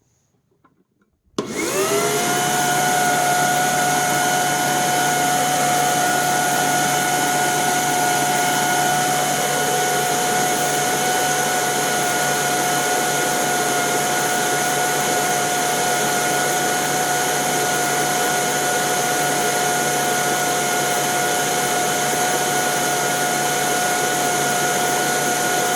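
A Sanitaire EXTEND SC3683D upright vacuum cleaner with a 10 amp motor switches on after a brief silence, then runs at a loud, steady, high-pitched whine with a constant motor drone for the rest of the clip.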